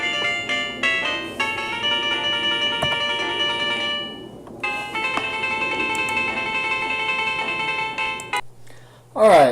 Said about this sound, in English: I had a phone call